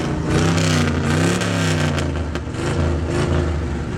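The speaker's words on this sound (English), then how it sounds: "I'm going to rev the engine up a little." A 1956 Ford Parklane wagon's Thunderbird V8 engine revs repeatedly, its deep rumbling pitch climbing and falling in several quick surges, loud and close with no talking.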